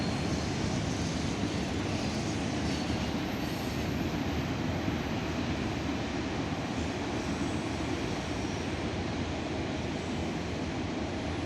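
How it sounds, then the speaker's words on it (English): A CSX freight train of autorack cars, including an old CP Rail autorack, rolls steadily past close by, with a continuous loud rumble of wheels on rail and faint squeal, no talk. "Ooh, an old CP rail auto rack."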